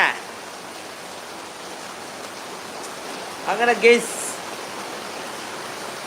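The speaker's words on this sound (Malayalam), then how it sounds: "ഇന്നത്തെ മഴ അടിച്ചു പൊളിച്ച് നമ്മളിതാ തമർത്തുകൊണ്ടിരിക്കുക" Heavy rain falls as a steady, even hiss that fills the whole stretch, while someone speaks briefly over it partway through.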